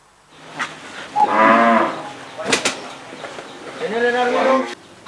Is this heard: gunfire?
no